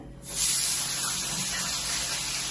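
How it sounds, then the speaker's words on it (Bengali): An Aquaguard water purifier switches on and a steady, fairly loud rushing hiss of water fills a container, continuing evenly after a quick onset. "অ্যাকোয়াগার্ডটা চালিয়ে দিলাম তার কারণ একা জলটা ভরা নেই"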